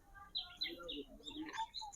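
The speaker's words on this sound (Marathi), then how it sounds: "पक्ष्यांचा आवाज येत असेल. किलबिलाट येतोय." Faint, distant birds chirping in short high tweets scattered across a quiet outdoor background in the mountains of Mahabaleshwar.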